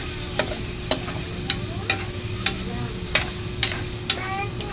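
Pork frying in a pan for a monggo dish, a steady close sizzle with sharp crackles and pops every half second or so, with no talking.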